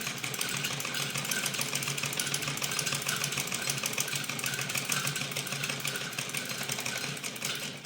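A sewing machine runs steadily, stitching the shoulder seam of a kameez with a fast, even mechanical whir that holds close and constant throughout without pause.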